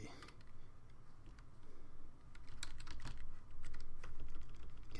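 Rapid, uneven typing on a computer keyboard fills the clip, with close clicky keystrokes in bursts over a low room hum.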